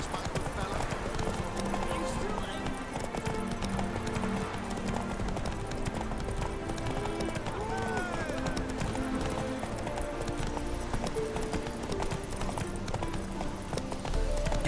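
Horse hooves clip-clop in a steady trotting rhythm in The Witcher 3, continuing throughout under game music and other ambience while a character speaks over part of it.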